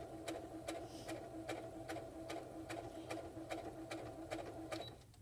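A sewing machine stitching a fabric pocket onto an apron, a steady rapid mechanical whir with regular needle clicks, running alone and fairly quiet before slowing to a stop at the end.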